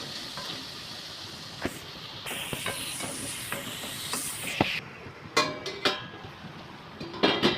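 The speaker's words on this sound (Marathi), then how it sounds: "त्याचबरोबर फरसबी आणि गाजर सुद्धा घालून घेते त्याला थोडा वेळ शिजवून घेते" Green beans and carrots cooking in a pan for masala pasta, a soft sizzle and hiss with scattered spatula scrapes and clinks, ending in a few louder knocks.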